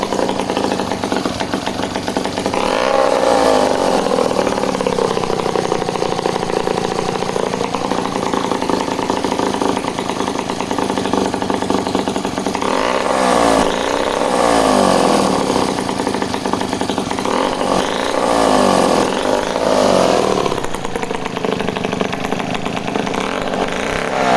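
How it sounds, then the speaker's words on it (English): An Echo CS-60S chainsaw engine runs loudly nearby, a buzzing two-stroke drone that idles and then swells in several revving bursts before settling, with no talking over it. "choke is up, kill switch, loud engines but beautiful"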